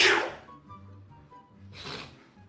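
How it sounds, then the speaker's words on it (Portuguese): A person sneezes twice, close and loud, the second burst about two seconds after the first, with a faint hum between them. "Não espirre em cima de mim"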